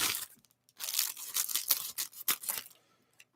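Scissors snip and slice open a plastic bag, giving a run of crisp crinkling and tearing bursts at close range, with a short pause before the cutting and a final small click.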